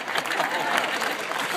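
A short burst of audience clapping at a graduation ceremony during a valedictorian's speech, lively and fairly loud, with some crowd voices mixed into the applause.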